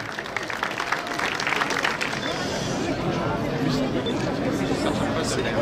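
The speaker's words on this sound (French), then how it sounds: "Je pense qu'on peut les applaudir encore une fois très fort." A crowd applauds at an award ceremony for a green-town label in Ecublens, Switzerland: steady, dense clapping that lasts the whole stretch, with crowd chatter and a voice over it.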